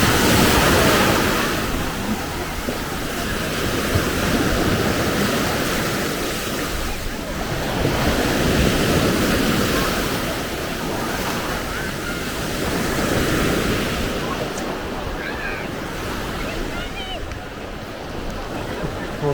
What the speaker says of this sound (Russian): море теплое, вода теплая. Чуть-чуть волнуется